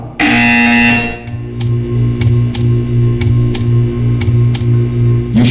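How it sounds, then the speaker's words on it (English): Buzzer in the video game Portal 2, a loud, sustained electronic buzz over a low hum with a steady series of pulsing beats, close and continuous. "You will hear a buzzer."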